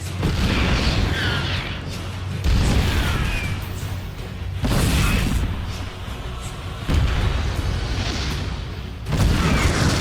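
Friendly-fire siege tank shots from StarCraft 2 boom repeatedly, roughly every two to three seconds, each loud blast followed by a swishing decay over a steady battle din.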